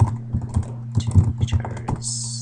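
Rapid clicking keystrokes on a computer keyboard while coding a Python conversion script, a close, uneven burst of taps ending in a brief hiss.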